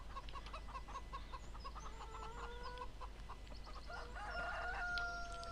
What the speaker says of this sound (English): Cock-a-doodle-doo indeed, Captain Scratchy.